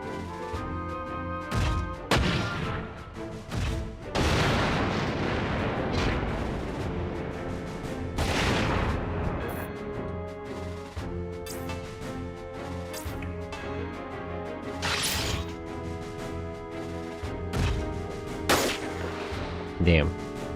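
Grenade and cannon fire from mechs in the tactical game Front Mission 4, a series of loud booming shots and crashes spread over the stretch amid dense game music and effects, with a voice talking at times.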